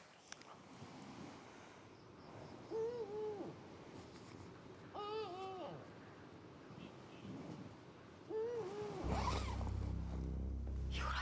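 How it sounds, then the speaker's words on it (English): Soft, repeated hooting calls of a night bird, likely an owl, heard outdoors at night from a tent in a Russian village, a few short hoots spaced apart over faint wind and background murmur. "Relax, it's just birds whooping."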